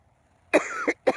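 Two short, close coughs, a harsh rasping one followed by a brief second burst, after a moment of quiet.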